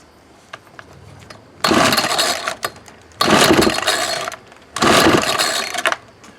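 An old thrift-store Ryobi 31cc 700R string trimmer gets three loud pull-start attempts, each a rough one-second burst of engine sputter and recoil rattle, separated by short pauses with light handling clicks.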